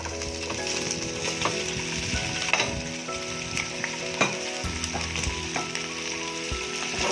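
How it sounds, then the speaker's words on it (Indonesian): Chicken wings sizzle and fry steadily in a wok with a little oil over medium heat, a continuous close crackle with occasional sharper pops and scraping stirs. "Kemudian langsung kita goreng ayamnya."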